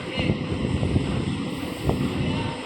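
Wind rushes and buffets against the microphone in a steady roar, with low rumbling gusts near water at a ship ramp.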